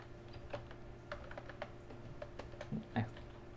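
Irregular light clicks of computer keys, typed in short scattered bursts at a moderate distance over a faint steady electrical hum, as Python code is entered into a list program.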